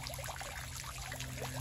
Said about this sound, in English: that's just the hose that I got filling the pond back up